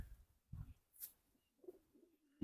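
Inside a pigeon coop holding Bozkırlı pigeons, faint low coos come in short separate bursts, with a brief high chirp between them, all quiet and close by.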